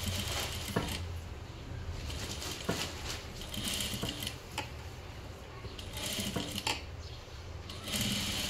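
A sewing machine runs steadily, top-stitching a small baby frock, with a continuous close mechanical whir and needle clatter and a few brief pauses and clicks.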